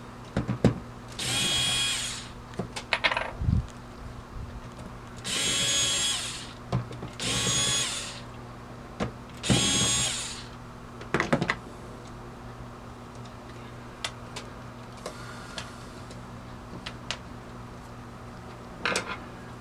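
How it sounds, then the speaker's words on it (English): A Ryobi HP 54L 4-volt two-speed cordless drill driving screws into a coin mechanism, in several short whirring bursts separated by pauses with light metallic clicks and taps, close and clear. "This is Ryobi HP 54L 4-volt 2-speed. Makes this go a little quicker."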